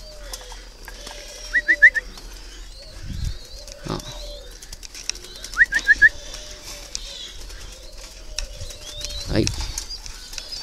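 Spotted doves kept as breeding birds at a home aviary, giving soft cooing phrases with short chirps in between, a brief wing flutter and someone speaking a word.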